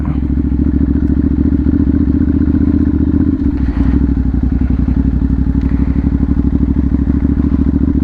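Ducati Monster 796 motorcycle engine while riding, a loud, steady, lumpy rumble with rapid even firing pulses close to the microphone, rising slightly partway through, with no talking.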